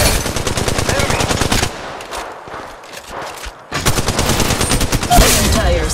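Video game gunfire as a squad opens fire: loud, rapid automatic bursts close up, a short lull with scattered distant shots, then more sustained rapid firing.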